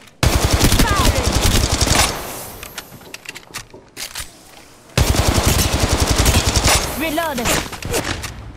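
Rapid automatic gunfire from the Apex Legends Mobile video game, played on an iPhone 13, comes in loud bursts separated by a short lull, with a voice speaking briefly between the volleys.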